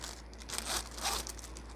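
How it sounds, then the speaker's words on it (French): Crinkly plastic packaging is pulled and rustled close up as cross-stitch fabric is unwrapped, a steady crackling with a few louder crinkles. "Fait que je vais déballer ça."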